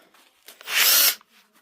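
A wooden loom dowel sanded with a grit attachment on a power tool: one short, bright whirring burst of abrasion lasting about a third of a second, close up, with faint handling noises around it.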